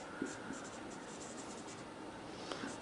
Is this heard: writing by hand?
yes